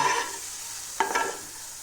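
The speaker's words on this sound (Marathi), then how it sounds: "ते तेलामध्ये छान फ्राय करून घ्यायचं." Steady frying sizzle of mixer-ground chillies in hot oil with a brief stirring scrape in the middle, close and continuous.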